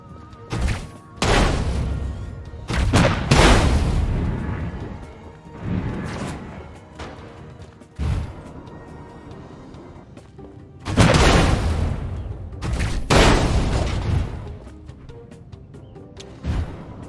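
Explosions in the video game Destroy All Humans! burst out repeatedly, loud booming crashes in irregular clusters with rumbling decays between them.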